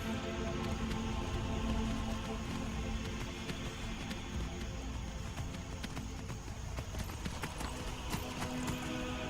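Horse hooves clip-clopping at a walk near Falkreath in Skyrim, a steady rhythmic clatter of hoofbeats over a soft ambient game background.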